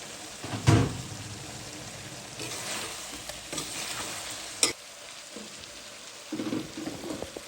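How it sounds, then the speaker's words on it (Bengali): Eggplant frying and being stirred in a pan with potato and cauliflower, a steady soft sizzle broken by occasional scraping stirs and clatters, close and moderate in level. "তার জন্য বেগুনটা আগে কষে নিচ্ছি"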